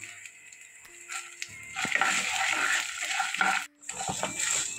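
Urad dal, chana dal and coriander seeds fry in a pan, giving a soft, steady sizzle and crackle with faint stirring taps, close by and continuous.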